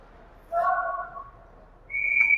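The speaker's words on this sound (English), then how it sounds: "We get a whistle for icing" A referee's whistle stops play for icing during an ice hockey game between the Rampage and the Jr Coyotes, with one short trill followed by a higher, sharper blast over faint arena ambience.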